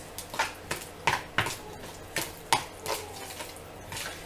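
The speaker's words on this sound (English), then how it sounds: "I'm just going to use just a plain old spoon and give it a nice mix" A plain spoon stirring a Greek yogurt salad, giving a steady rhythm of soft clinks and wet scrapes against the bowl, about two per second, close and fairly quiet.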